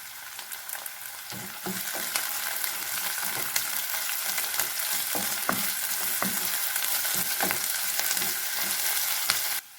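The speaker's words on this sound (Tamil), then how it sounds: "வெங்காயத்தை நல்லா வணக்கிக்கலாங்க இஞ்சி பூண்டு விழுது கொஞ்சம்" Onions with ginger-garlic paste sautéing in a pan for tomato kurma, giving a steady, close sizzle, with periodic scraping and clinks as a spoon stirs through, running continuously and ending abruptly.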